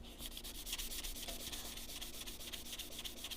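Sanding with 600 grit sandpaper by hand, a fast, even back-and-forth rubbing rhythm of short strokes, close and moderately quiet, alone without talk.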